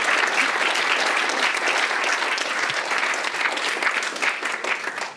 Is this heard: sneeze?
no